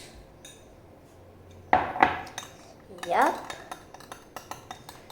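Metal cutlery whisking an egg in a bowl, with two short bursts of clinking and scraping against the dish over a quiet room background and a brief spoken word.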